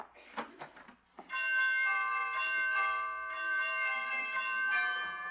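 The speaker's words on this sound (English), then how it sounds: "Well, pretty door chimes." Door chimes at a dancing academy ring out in a sustained, clear bell tone that lingers and fades, preceded by a few brief knocks or footsteps in an old radio comedy scene.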